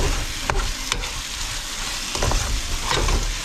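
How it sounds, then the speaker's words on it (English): Mince and a four-bean mix fry in a pan while being stirred, a steady close sizzle with scraping strokes of the utensil and occasional clinks at the pan, no talking. "Give that a good stir"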